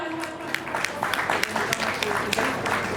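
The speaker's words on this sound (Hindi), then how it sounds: "जोरदार तालियां।" Applause from an audience at a religious study camp gathering, uneven scattered claps with sharp individual hits standing out, mixed with some background voices.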